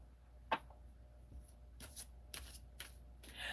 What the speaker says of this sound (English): I'm just going to shuffle a little bit